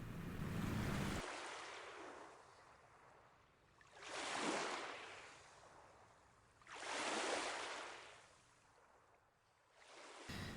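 Open sea waves surge and break in slow, separate swells, each rush of surf building and fading with quiet gaps between, heard alone without voices.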